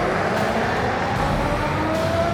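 Nikola electric vehicle with motors delivering about 600 newton meters while accelerating fast, steady loud road and wind roar with a faint rising electric whine, close and continuous.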